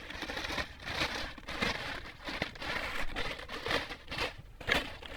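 A toy backhoe is unpacked from its packaging, with soft crinkling and rustling of wrapping in irregular bursts, close and fairly quiet.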